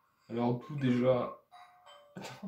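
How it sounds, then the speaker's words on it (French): A doorbell sound effect plays as a short, faint two-tone chime between bursts of French conversation. "Ensuite, on entend le son de la sonnette."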